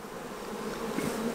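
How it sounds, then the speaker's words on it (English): Honeybees hum in a dense, steady drone at an open backyard hive being split to raise queens, close and continuous with no talking. "That's a lot of bee power."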